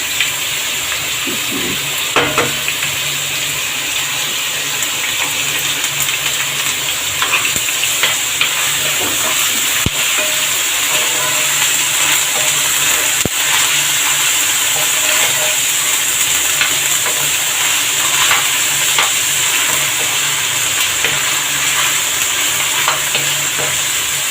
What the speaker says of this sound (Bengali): আর এখন আমি সামান্য একটু আদা রসুন বাটা দিয়ে দিই